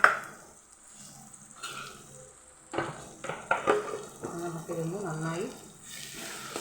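Chole gravy stirred in a pan with a spoon, giving a soft sizzle and a run of scraping, wet stirring strokes in the second half, close by, while someone speaks over it.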